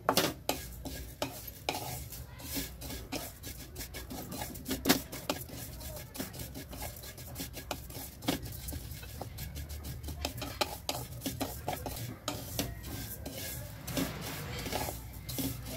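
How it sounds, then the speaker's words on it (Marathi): Fennel seeds are dry roasted and stirred in a pan for a homemade Maharashtrian spice masala, a busy continuous scraping and rattling with dense rapid clicks of seeds against the metal, close and steady throughout. "बडीशेप घालून घेतली मी याच्यामध्ये, हे पण असं खमंग भाजून घ्यायचं"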